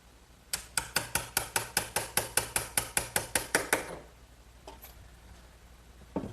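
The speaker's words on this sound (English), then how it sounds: "I'm just removing the excess with a good sharp chisel" Good sharp chisel paring excess wood from a trestle table joint, a rapid run of about fourteen crisp, evenly spaced taps for three seconds, close and fairly loud, followed by quieter scraping and one last tap.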